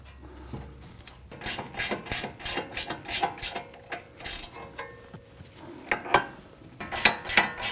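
Ratchet clicking while tightening the rear upper control arm bolts on a 2010-2019 Ford Taurus, a close series of rapid metallic ratcheting bursts with short pauses between strokes.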